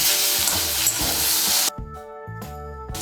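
Poppy seed paste, ground with two green chillies, is mixed with egg in a pan for a Bengali egg-and-poppy-seed stir-fry, making a steady wet sizzle and scraping. The sizzle drops away partway through and returns in short bursts.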